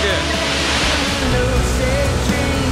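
Dense, constant roar of Victoria Falls seen from the Zimbabwe side, loud and close like a wall of rushing water, with faint voices mixed into the noise.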